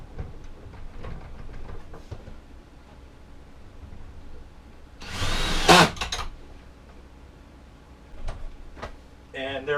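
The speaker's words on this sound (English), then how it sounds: "I'm going to put in the remaining screws." A power drill driving screws while a table and shelf are fitted in a cargo trailer conversion: a short loud whirring burst in the middle, then a brief second buzz near the end, with faint handling noise around it.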